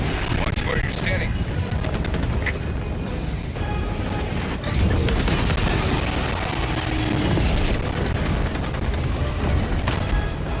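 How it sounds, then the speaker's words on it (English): Pelican dropship firing on enemies in Helldivers 2, a rapid rattle of gunfire with booms and crashes piling up over ten seconds of dense game noise, loud and continuous. "The Pelican will shoot at the enemies for us too"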